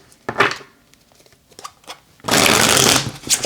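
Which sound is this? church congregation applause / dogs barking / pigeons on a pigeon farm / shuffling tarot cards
shuffling tarot cards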